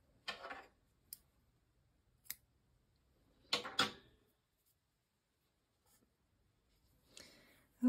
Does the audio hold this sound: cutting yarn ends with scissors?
yes